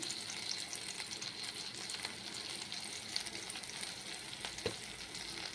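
Spices fry in a pan with a soft, continuous sizzle, fairly quiet, with faint scraping and occasional small clicks from stirring.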